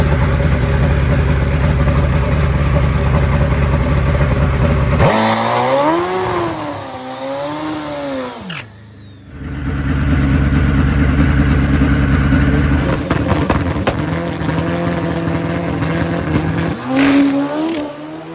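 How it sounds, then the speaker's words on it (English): World's fastest turbo bike roaring at high speed during a private session on a test track, a loud sustained engine drone that rises and falls in pitch, briefly drops away, then surges back with continuous revving. "This is the world's fastest turbo bike."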